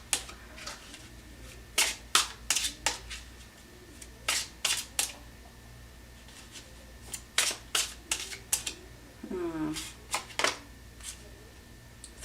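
Tarot cards shuffled and handled at a reading, giving repeated sharp flicks and snaps in short bursts, close and fairly crisp, separated by quiet pauses with no talking.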